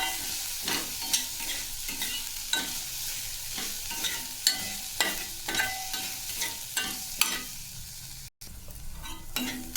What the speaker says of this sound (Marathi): मटकीची डाळ टाकायची आहे आणि परतून घ्यायचं आहे तेलात